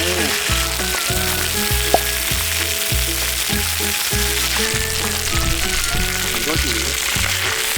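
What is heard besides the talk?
food sizzling while frying in a coated pan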